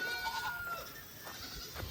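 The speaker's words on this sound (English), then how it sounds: "There's all the goats." Goats bleat in a small group, a few overlapping wavering cries spread across the moment, moderately close, with a steady outdoor hiss behind them.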